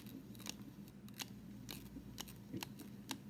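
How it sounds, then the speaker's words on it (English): Quiet, sharp clicks of a film developing reel counter come one after another at irregular intervals as film is cranked onto the reel, with a soft rustle beneath them. "Every click is actually this counter moving."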